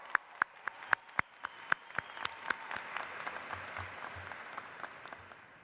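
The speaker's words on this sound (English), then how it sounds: "let's just have a huge round of applause for the class of 2019" At the Cedar Park High School 2019 graduation, the crowd applauds the graduating class: a few sharp, separate claps close by come first, then they swell into a softer spread of audience applause that fades.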